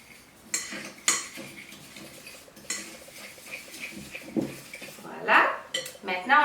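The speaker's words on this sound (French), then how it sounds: "On commence par bien mélanger ces ingrédients-là." Dry ingredients for keto Oreo-style biscuits, including salt, stirred in a bowl, with a spoon scraping and clinking against the sides in irregular bursts, close and moderately loud, with brief speech-like sounds between strokes.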